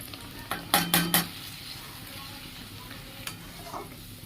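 Ground turmeric, cumin and coriander stirred into hot oil and a splash of water for a spicy prawn curry: a few loud spoon scrapes against the pan in quick succession, then a faint steady sizzle with occasional light clinks.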